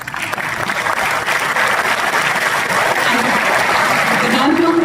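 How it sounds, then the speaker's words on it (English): Sustained audience applause fills a convocation ceremony hall, steady and dense throughout, with a faint voice briefly audible beneath the clapping near the end. "I request the audience to please applaud."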